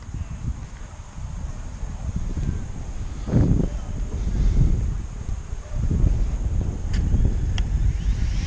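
Strong wind gusts buffet the microphone outdoors as a Hubsan drone is about to launch, a steady rough rumble that surges and eases throughout, with a faint high-pitched whine above it.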